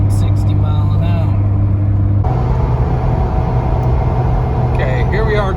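A Jeep Gladiator with 5.13 gears climbs a gentle hill in 6th gear on cruise control at about 60 mph, giving a steady low engine and road rumble throughout, with a voice talking over it.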